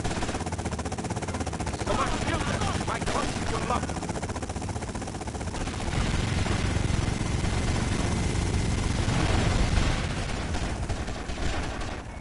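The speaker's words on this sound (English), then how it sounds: "they've got a helicopter!" A helicopter in the Vice City video game whirs beneath heavy bursts of gunfire, with someone shouting excitedly over the steady loud din.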